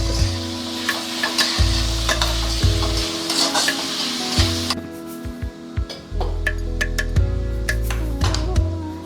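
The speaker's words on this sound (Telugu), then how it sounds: "క్యాబేజ్తో పాటే మనకు పెసరపప్పు కూడా వేగిపోతుంది. ఇది నిదానంగా కాసేపు వేగాలండి." Cabbage and moong dal paste sizzle steadily in a hot pan, with occasional scraping and stirring clinks over the continuous close frying hiss.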